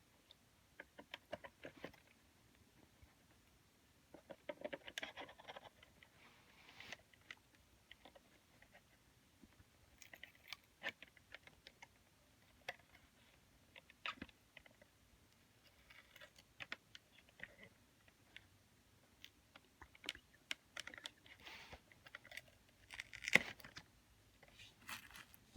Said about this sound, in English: Now let me get the sticker off.